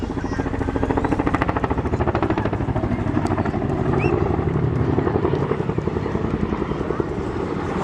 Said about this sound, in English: As one of the largest battlefield helicopters in the world, these manoeuvres showcase the Chinook's excellent manoeuvrability